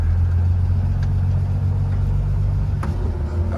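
A 1936 Nash 400 DeLuxe car drives along, its engine a steady low rumble heard from inside the cabin, with a couple of faint clicks and knocks over the drone.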